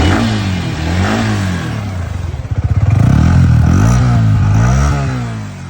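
A Yamaha R15 V3 motorcycle with dual-channel ABS and about 27,375 km on it is started and revved at close range. The engine note rises and falls in loud, rising and falling surges.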